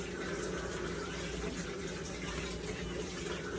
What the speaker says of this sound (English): Need to wash my hands real quick.